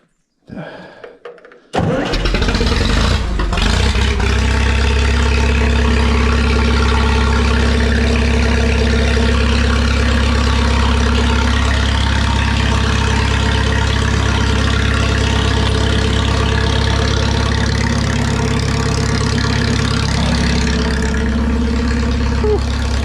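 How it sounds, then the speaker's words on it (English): A cold engine cranks and catches on half choke after a brief quiet start, then settles into a loud, steady idle with a deep low rumble that holds for the remaining twenty seconds. "That's definitely a cold start. It started pretty well."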